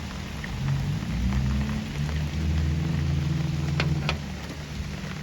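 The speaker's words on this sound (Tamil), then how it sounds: "இதில் மழை பெய்யுது" Steady, heavy rain falling on surfaces at home, with a constant dense hiss and a low rumble throughout, plus a few sharper drips and taps. No one speaks.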